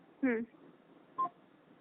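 Telephone dialing tones: two short electronic keypad beeps, close and clear, spaced about a second apart over a faint background hiss.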